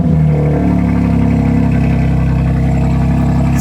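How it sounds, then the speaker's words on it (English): BMW G80 M3 engine just after a cold start, running steady and loud close by with a deep, even drone, alone without talk. "So cold start sounds pretty decent on this thing"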